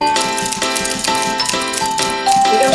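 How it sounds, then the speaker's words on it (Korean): Typing sound effect added to a Canva-made New Year greeting animation: a quick run of light key clicks layered over a steady, bright music bed, with a few spoken words near the start. "지금 들리셨는지 모르겠지만 이렇게 타이핑이 되는 소리들"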